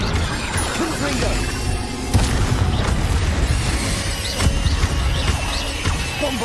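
A Confringo fire-blast spell from Hogwarts Legacy goes off amid dense, continuous combat noise, with heavy booming impacts and crashes recurring every second or so at loud, close range.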